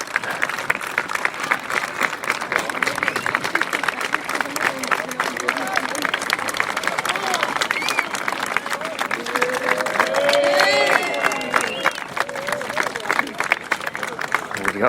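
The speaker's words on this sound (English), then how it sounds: "you can hear the applause for them." Steady crowd applause and clapping fill the scene, with a murmur of voices and scattered cheers mixed in.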